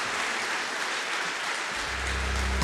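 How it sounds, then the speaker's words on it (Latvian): Dense, continuous applause fills an awards ceremony hall for lifetime achievement award recipients, a steady wash of clapping from a large crowd that runs throughout before a low tone swells at the end. "Vēlreiz ovācijas visiem mūža ieguldījumu balvas saņēmējiem"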